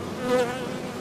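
Honey bees buzz at a hive in a close, continuous hum that briefly swells louder, with no voices.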